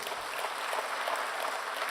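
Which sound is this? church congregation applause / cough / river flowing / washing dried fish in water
church congregation applause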